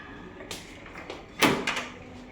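A house door swings open at home with a short scrape and a clunk of the latch or frame, close by and brief, with no talk.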